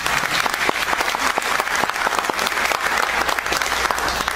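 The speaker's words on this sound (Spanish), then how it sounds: "Démosle un aplauso." Forum audience gives sustained applause after opening remarks, a thick continuous roar of many hands clapping at steady loudness throughout.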